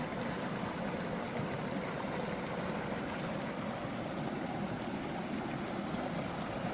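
Steady rushing water flows continuously with an even, broadband hiss, moderately quiet, with no voices or distinct events.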